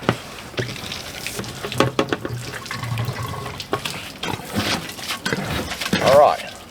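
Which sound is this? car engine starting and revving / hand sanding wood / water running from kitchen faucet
water running from kitchen faucet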